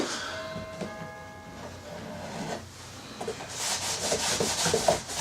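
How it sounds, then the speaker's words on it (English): Wet rag rubbed and wiped over a surface to clean it, a soft scrubbing hiss that builds louder and more rapid toward the end, with quieter rubbing and faint tones earlier. "take a wet rag and just clean it off"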